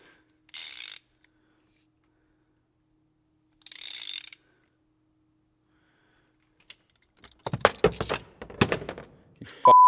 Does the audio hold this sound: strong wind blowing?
no